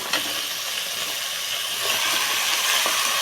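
Drumsticks for sambar fry in hot oil with a steady, loud sizzling hiss that swells slightly partway through, close by and with no one talking.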